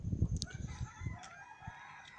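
A rooster crows in a backyard flock among chicks and other fowl, a faint distant call under low rumbling, with small scattered clucks and bird noises around it.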